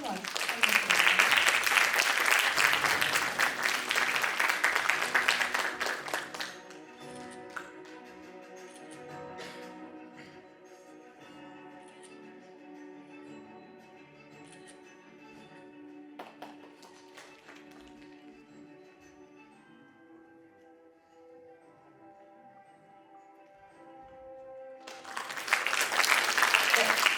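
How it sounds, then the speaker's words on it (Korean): An audience applauds at a gifted-education program graduation ceremony, loud dense clapping at the start that stops abruptly, giving way to a quiet stretch of sustained music, then swells back into loud applause at the end. "큰 박수로 맞춰주세요"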